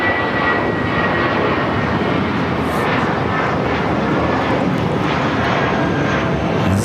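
An airliner on flight 882 from Hong Kong landing on runway 24 right at LAX, a loud, steady wash of engine roar throughout with no voices.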